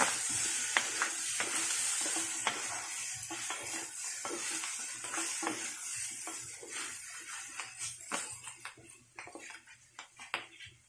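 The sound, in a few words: stirring dinuguan (pork blood stew) in a pan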